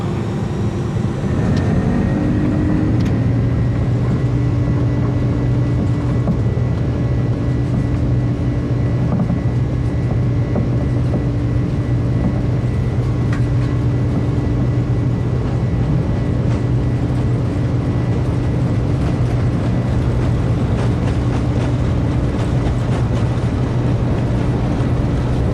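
Jet airliner engines spool up and hold a steady, loud roar through a takeoff roll in Microsoft Flight Simulator 2020, with a sustained drone and rising whine continuing unbroken for the whole stretch.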